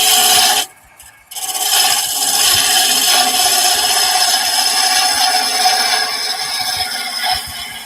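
A wood lathe spins while a turning tool cuts a taper down from the parting line, giving a steady, close rasping scrape that drops out briefly near the start, then runs on evenly.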